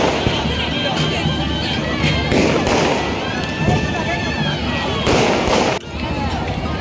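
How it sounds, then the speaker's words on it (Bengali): Firecrackers crackle and pop continuously at a wedding celebration, loud and fairly close, over a busy crowd of voices and talk. "আমাদের জামাই এসে গেছে, তাই জন্য এত বাজি ফাটছে"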